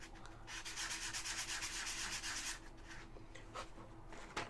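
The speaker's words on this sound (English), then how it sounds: "This is just a sandpaper block." Close, quiet rubbing of a sandpaper block on a flat piece from a dollar store mold, with brisk back-and-forth strokes fading into lighter, scattered scrapes.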